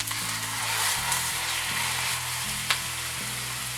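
A pound of ground pork sizzles in a pan after garlic and onions for cauliflower pork fried rice: a loud, steady frying hiss close up, with faint stirring scrapes and one sharp tap.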